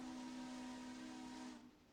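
A steam locomotive whistle in the Railroader train game sounds one sustained, breathy tone with hiss, held for about a second and a half before cutting off, quiet and alone.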